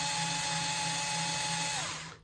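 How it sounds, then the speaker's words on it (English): An electric screwdriver whirs in a steady, fairly loud high-pitched drone while driving a screw in a magnetic coupler setup, holding constant for about two seconds before spinning down. "I'm going to use an electric screwdriver to move it faster."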